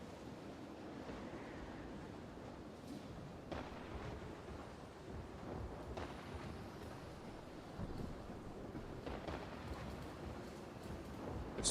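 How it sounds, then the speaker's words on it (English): A thunderstorm in the naval building game From the Depths, heard as a steady roar of wind-driven rain and surging waves with low rumbles and brief louder swells throughout, no talking. "It's a storm."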